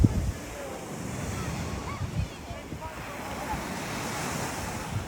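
Waves wash onto a secluded Italian beach, soft continuous surf with gusts of wind buffeting the microphone, fairly quiet, with a few low thumps at the start.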